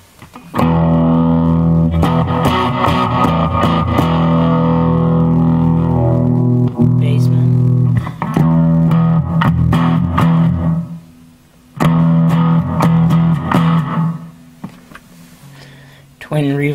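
An electric guitar played through a Fender Mustang I amp on its '57 Deluxe setting gives distorted sustained chords and notes, loud and close, with short pauses between phrases.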